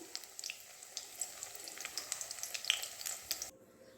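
Fish roe fritters frying in oil give off a soft, steady sizzle with scattered crackles and pops, fairly faint, before the sound cuts away near the end.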